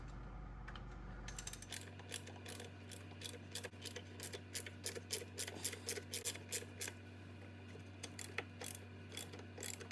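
Rapid ratchet clicking from removing 8 mm bolts on a Jeep 3.6 oil filter housing, repeated bursts of sharp pawl clicks over a steady low hum, close and clear with no talking.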